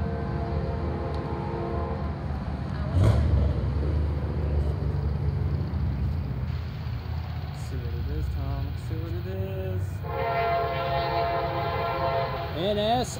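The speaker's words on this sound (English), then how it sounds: "here comes another train coming here" A mixed freight train led by an SD60E locomotive rumbles past steadily, its horn sounding several times in drawn-out blasts over the heavy rolling noise, with a voice talking at points.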